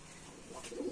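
A Rajshahi Giribaz pigeon, a lively, well-mannered bird, gives a soft, close coo that swells toward the end of a short moment with no talk over it.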